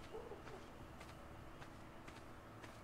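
Faint bird calls and soft cooing from birds in the video game Ark: Survival Evolved sound over a steady low background hum, quiet and distant, with a few brief chirps.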